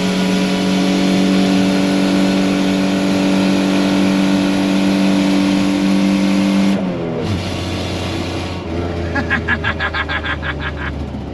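A 1992 Nissan Pathfinder's engine on a test drive after a torsion-bar suspension lift, holding a loud, steady rev before dropping to a lower idle-like drone with some rattling, close and continuous.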